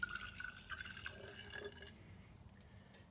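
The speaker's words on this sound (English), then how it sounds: "we're going to take the jar, the container, and we're going to pour in our automatic transmission fluid" Automatic transmission fluid pours into a jar as a thin trickle with small drips, quiet and steady for about three seconds and then tapering off, with no talking.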